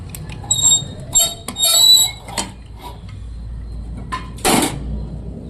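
Metal clanks, scrapes and squeaks come from a pressure cooker lid being worked open after chicken biryani has cooked inside, in close, irregular bursts with no speech.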